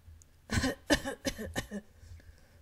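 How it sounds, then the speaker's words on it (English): A series of four rough coughs from a video game character in Hakuoki Kyoto Winds, in quick succession, fairly close, fading into quiet room noise. "I heard Okita begin to cough"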